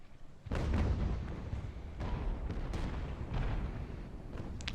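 Mortar artillery fire in the Ultimate Admiral: Age of Sail video game, a series of deep booming thuds spaced roughly a second apart over a continuous low rumble of battle, with no speech.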